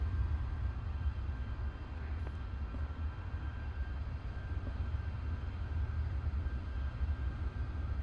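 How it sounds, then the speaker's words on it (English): A North American P-51D Mustang in a flight simulator game, its piston engine a steady, low, continuous drone held at an even level for several seconds with no voices. "flying the iconic North American P-51D Mustang"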